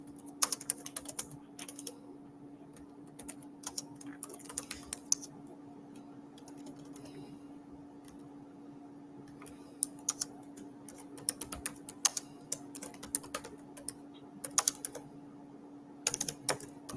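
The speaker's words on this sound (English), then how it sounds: "Let me type this in." Quiet, close computer keyboard typing arrives in irregular bursts of crisp key clicks separated by short pauses, over a faint steady background hum.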